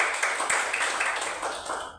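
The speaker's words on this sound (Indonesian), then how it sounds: "Ayo tepuk tangan untuk kelompok 1." Classroom of students clapping for a student group after a presentation in a school lesson, a brisk, fairly close burst of many hands in uneven rhythm that fades out over about two seconds.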